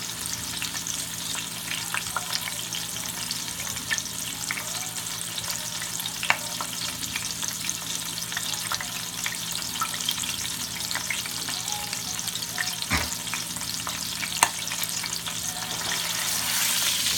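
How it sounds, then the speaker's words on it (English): Pot roast meat searing in a pan, a steady broadband sizzle running unbroken throughout at moderate level, with a few faint clinks and a brief soft knock. "You want it to, get a nice searing on it, like nice sear."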